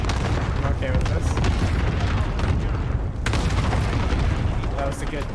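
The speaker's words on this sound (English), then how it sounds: "there's so many explosions" Dense, overlapping booms of explosions and gunfire during combat in a video game, loud and continuous with repeated bursts, while a voice talks over the chaos.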